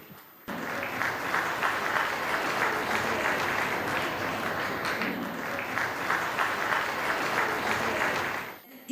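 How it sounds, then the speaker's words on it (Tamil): A large audience at a Tamil arts and literature festival applauds the venue sponsor, YR Mahal, with sustained, dense clapping for about eight seconds that starts abruptly and tails off at the end. "நம்மளுடைய வென்யூ ஸ்பான்சர் ஒய்ஆர் மஹால் அவங்களுக்கு ஒரு மிகப்பெரிய ஒரு கைத்தட்டல் கொடுத்துடலாம்"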